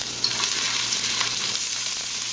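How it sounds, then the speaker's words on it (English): Garlic sizzles in a hot pan with olive oil, a dense, continuous crackling hiss at steady loudness with small pops, close and alone without talk. "the garlic is sizzling."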